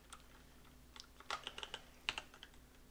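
Fingers tapping an expression into a computer keyboard, light quick key clicks in uneven bursts, close and quiet with no voices.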